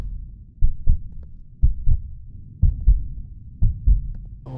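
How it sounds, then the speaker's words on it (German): A heartbeat pounds through a horror video game, The Lost Fear, as steady low double thumps, about four slow beats, close and heavy over a dull droning hum. "Warum höre ich jetzt meinen Herzschlag so?"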